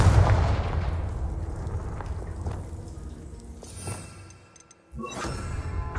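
Confringo spell explosions in Hogwarts Legacy, several booming blasts with crackling debris, starting loud, thinning into quieter scattered impacts, then a sharp fresh burst near the end.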